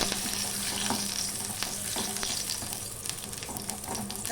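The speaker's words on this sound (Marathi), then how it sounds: "हे सर्व आहे आपल्याला ना छानपैकी तेलात परतून घ्यायचे कढईत गोड तेल घालून घेतलंय" Coriander seeds sauté in sweet oil in a kadhai, giving a continuous close sizzle with regular scraping stirs of a spatula and no voices.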